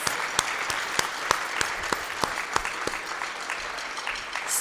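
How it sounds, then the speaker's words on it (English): Audience applause fills a performing arts center, a steady dense patter of many hands with a few sharp loud claps and cheers standing out, continuous throughout with no talk. "Give her a round of applause."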